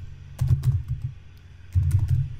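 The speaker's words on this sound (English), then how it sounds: "let me just type it quickly" Quick bursts of clicking keys on a computer keyboard while month names are entered into a PowerPoint timeline, two clusters of rapid taps separated by a short lull, close and fairly crisp.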